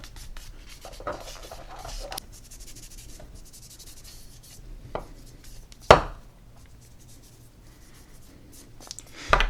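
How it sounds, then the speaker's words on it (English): Scraping and rubbing while grime is cleaned from the slide groove of a Bersa Thunder .45 handgun, a steady close scratchy texture with a few sharper clicks and knocks along the way. "For the last step, I'm going to clean the groove of the slide itself"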